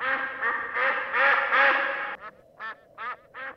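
A duck quacks, first in a dense run of loud nasal calls, then in four separate, evenly spaced quacks, close and clear with no talk.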